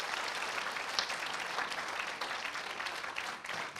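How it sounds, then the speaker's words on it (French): An audience at a Rotary Club district conference awards ceremony gives steady, continuous applause, an even wash of many hands clapping at moderate distance with no voices standing out. "on peut les applaudir"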